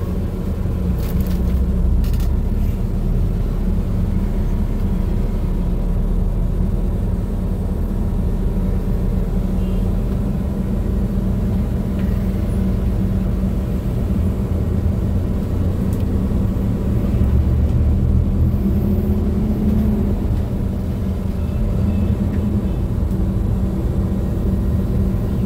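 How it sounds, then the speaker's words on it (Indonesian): Evening traffic jam on Jalan Badoka in Makassar, heard from inside a bus: a steady low engine rumble and road drone continues throughout at a constant level, with no talking. "sekarang kita lihat tuh di jalan Badoka ya. Ini macet nih teman-teman."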